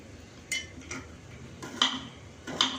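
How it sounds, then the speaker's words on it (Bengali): Green chillies, ginger and coriander leaves being chopped on a board, a few sharp knife taps spaced apart at close range, alone without talk. "এদিকে কটা কাঁচা লঙ্কা নিয়েছি, আদা আর এই যে ধনে পাতা, এটা কুচিয়ে নেবো"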